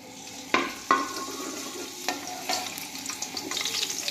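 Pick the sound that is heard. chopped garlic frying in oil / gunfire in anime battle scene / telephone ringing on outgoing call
chopped garlic frying in oil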